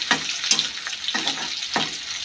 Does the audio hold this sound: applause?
no